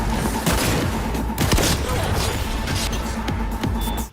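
Carnage shotgun in Cyberpunk 2077, an iconic-rarity heavy weapon, firing repeated loud, booming blasts in quick irregular succession amid continuous combat noise.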